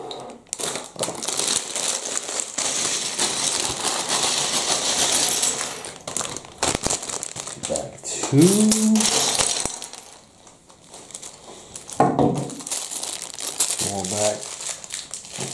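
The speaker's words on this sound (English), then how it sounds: "Bag, plastic bag." Plastic bags of Lego pieces from the Minecraft Polar Igloo set crinkle and rustle in bursts close by, with small clicks and rattles of loose bricks, under a man's intermittent speech.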